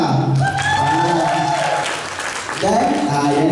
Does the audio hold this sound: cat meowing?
no